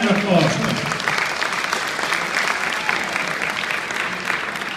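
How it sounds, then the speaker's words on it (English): A crowd applauding for several seconds at an event after a 10K race in New York City, dense steady clapping that starts with a speaking voice over it. "Give them a round of applause."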